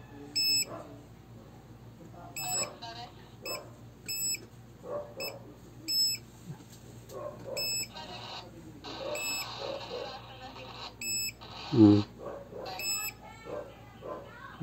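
A handheld gold detector scanner emitting short, high electronic beeps in irregular bursts, close to the device, while someone talks in Filipino.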